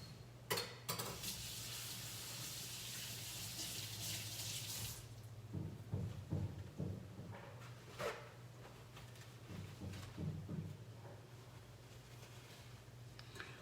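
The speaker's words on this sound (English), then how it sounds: "I'm gonna wash my hands" Tap water runs steadily into a kitchen sink for several seconds, then cuts off, leaving soft splashes and rubbing as hands are rinsed nearby during cooking, with no voices.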